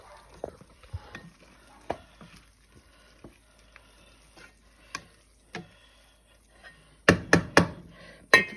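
Chicken bog being stirred in a pot on a home stove: sparse, soft scrapes and knocks of a spoon, spaced apart over quiet, then several loud, sharp knocks close together at the end.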